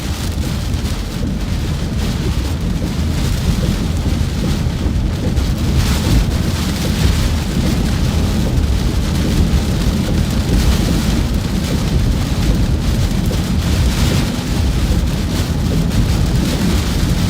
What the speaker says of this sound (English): See what this storm has to offer.